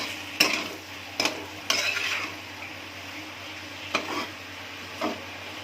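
Malabar spinach being stirred in a frying pan: a few scattered scrapes and clinks of a utensil over a faint, steady sizzle, with quiet stretches between the strokes.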